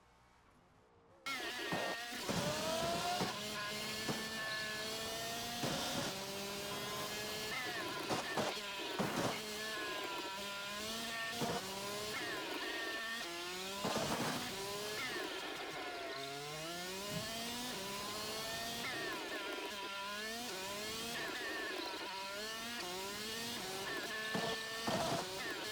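A racing car engine from Forza Motorsport drives a lap, revving high and steadily. Its pitch climbs repeatedly and drops at each gear shift in a continuous, loud whine, with no talking.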